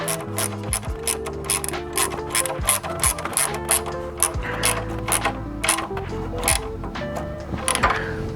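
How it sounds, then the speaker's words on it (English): A 10mm box end wrench ratchets rapidly as bolts are tightened on a Hepco & Becker solid guard for a Triumph Tiger 900 motorcycle, giving close, steady clicking bursts with brief metallic pauses and no talk. "You're gonna take your 10mm box end wrench and your Allen and tighten them up."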